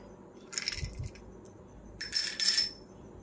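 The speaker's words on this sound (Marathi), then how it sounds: "लहान मुलांच्या गोट्या असतात खेळायच्या त्या देखील घालू शकता" Children's glass marbles tumble into a bowl in two short bursts of bright clinking and rattling, close up, with quiet pauses between and no talking.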